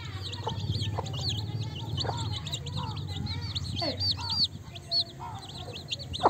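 Country chickens cluck and chirp continuously, with several overlapping birds close by making short repeated calls over a low steady hum.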